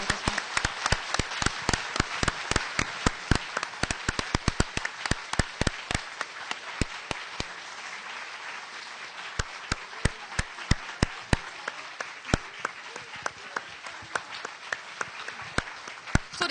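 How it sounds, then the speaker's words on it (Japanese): Applause from an audience, dense clapping at first that thins into scattered, sparser claps as it fades out, with no talking. "もう一度皆さん、博士に拍手をよろしくお願いいたします。"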